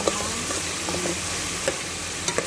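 Onion and garlic frying in a pan while cooking marag fish, a steady close sizzle with a few brief stirring clicks and scrapes, no voices.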